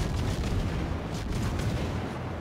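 Naval gunfire from a Minotaur cruiser in World of Warships ranked play crackles as dense, overlapping booms and rapid shots, loud and continuous, with no speech.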